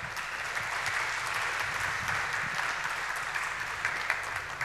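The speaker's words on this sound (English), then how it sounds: "So please give a warm applause and have fun at that talk." A conference audience claps to welcome a speaker, a dense, steady roar of many hands that carries evenly throughout and stays loud without pause.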